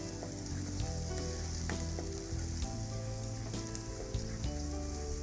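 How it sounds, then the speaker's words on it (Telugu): Chopped onions sizzle steadily in a hot pan, a continuous crackling hiss with occasional stirring clicks and scrapes, close and uninterrupted, with no talking. "సో ఆనియన్స్ కొంచెం పేల్ అయ్యే వరకు మనం ఫ్రై చేయాలి."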